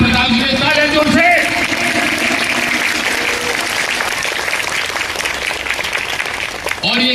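At an Independence Day ceremony, an audience breaks into loud, sustained applause that fills the space, with a voice heard briefly before the clapping and again as it ends.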